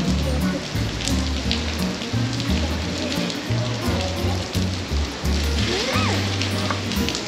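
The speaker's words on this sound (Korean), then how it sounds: "근데 비 진짜 많이 온다" Heavy rain pours steadily on a fishing spot in Samcheok, a dense, loud hiss that fills the whole stretch, with a low rumble underneath and a brief faint voice near the end.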